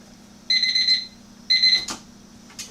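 A kitchen timer alarm rings while food cooks on a kerosene stove. There are two loud, shrill bursts of rapid beeping, each about half a second long, followed by a couple of clicks as it is handled.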